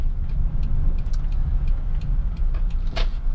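A car passing by a parked Subaru Forester 2.5 XT on a road, a steady low rumble that holds throughout with a brief brighter swell near the end, no talk.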